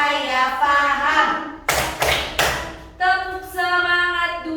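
Children in a primary-school class clap out a short rhythmic chant: three sharp, loud clap bursts land together between stretches of young voices chanting in unison, close up.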